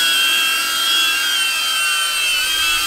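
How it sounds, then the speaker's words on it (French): DJI Avata FPV drone with a GoPro mounted, flying close by with a loud, steady, high-pitched propeller whine and buzz that never lets up. "déjà de base le Avata il fait un bruit de fou"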